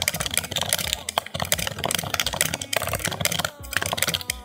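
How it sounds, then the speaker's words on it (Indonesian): Typing on a regular membrane keyboard, a dense, continuous patter of soft, close key presses in a quick, uneven rhythm. "Ini adalah suara keyboard biasa."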